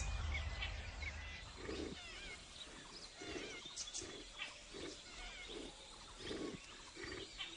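A Bengal tiger gives a series of low, rumbling roars and grunts at a steady pace, moderately distant and set against a noisy wild outdoor background.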